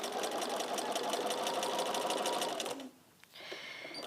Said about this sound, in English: Do another little tester.